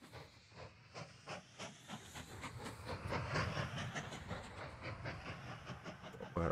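A train running in the video game Mashinky, a steady hissing rumble with faint rhythmic clicks on the rails, moderately loud and continuous with no talking.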